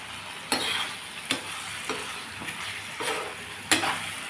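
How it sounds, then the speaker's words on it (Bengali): Masala spices stir-fry in a pan, a constant sizzle punctuated by sharp scraping strokes of a spoon roughly every second, close and distinct with no voices. "মশলাটাকে আমি খুব ভালো করে কষিয়ে নেব।"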